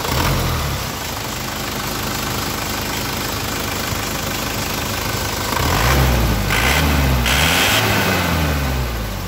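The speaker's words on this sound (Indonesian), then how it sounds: "Kita coba geber ya." A 2500cc direct-injection diesel in a 1999 Isuzu Panther Royal idles with a clattering rumble, then gets revved several times in quick rising bursts, loud and close with no talk.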